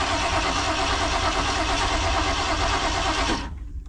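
A 1976 Ford Econoline van, pulled from a junkyard and short on fuel delivery, cranks hard and loud with a dense steady churn that cuts off abruptly near the end, leaving quiet.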